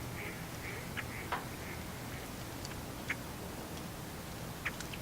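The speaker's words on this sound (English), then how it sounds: "There's lots of birds in my campsite." Birds around a campsite chirp faintly and intermittently at a distance, with a few sharp short calls over a soft steady outdoor background.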